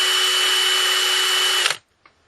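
A DeWalt brushless compact drill runs at a steady, even whine, close and fairly loud, then spins down and stops abruptly, leaving near silence with one small knock afterward.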